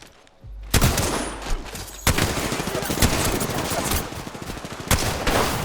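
Rapid automatic gunfire from the video game Apex Legends, with dense, loud bursts of shots and heavy impacts filling nearly the whole stretch after a brief quiet start.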